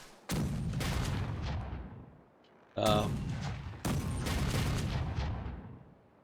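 Ship cannons in Caribbean Legend exchange fire near a fort as heavy overlapping booms and rolling rumble in three loud bursts with brief lulls between them, close and dense.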